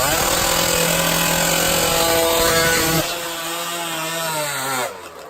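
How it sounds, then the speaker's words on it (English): High-horsepower classic two-stroke drag bikes scream at full throttle on a quarter-mile strip, with a loud, buzzing, sustained howl that drops in pitch as they pull away. "Who doesn't love the sweet sound of classic high horsepower two-stroke drag bikes?"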